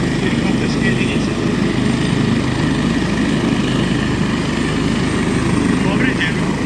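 A rescue helicopter of an emergency helicopter unit at a traffic collision simulation, its steady loud rotor and engine drone continuing throughout, with faint voices underneath.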